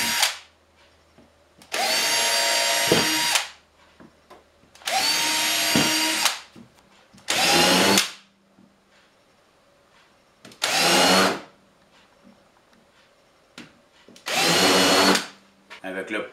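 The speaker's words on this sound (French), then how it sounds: "Maintenant, je perce des trous et je les chanfreine." A power drill boring holes in a wooden gouge holder runs in five loud, close bursts of a few seconds each, with quiet gaps between.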